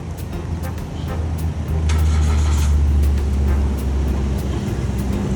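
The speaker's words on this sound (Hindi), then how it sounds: "चल भाई चल, ये रही हमारी गाड़ी।" Traffic rumbles on a street in Thailand as a car arrives at a pickup point, with a steady engine and road drone that swells in the low end as the vehicle draws near.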